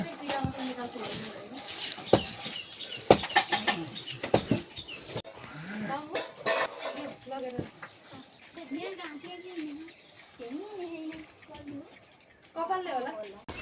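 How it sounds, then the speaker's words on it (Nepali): A chicken being slaughtered at home flaps its wings in scattered sharp bursts, mixed with close voices talking and some animal calls throughout. "मम्मी त कुखुरा काटिदिनु भयो"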